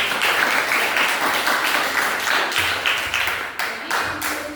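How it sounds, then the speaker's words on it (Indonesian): A classroom of students claps for their classmates during a weather lesson, a fairly loud burst of applause with rhythmic, fading hand claps near the end. "Tepuk tangan untuk teman-teman"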